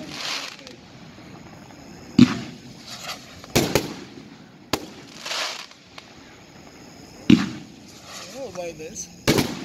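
A Cutting Edge American Legend 25-shot firework cake fires a series of sharp, loud bursts at irregular intervals, some followed by crackling, with a person speaking between the shots.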